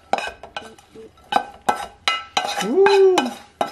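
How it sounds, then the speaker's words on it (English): Quinoa and sweet potato stuffing being mixed, with a spoon knocking and scraping in a bowl in short, uneven strokes, sounding close and clear alongside a few brief kitchen clinks. "And I mix it up."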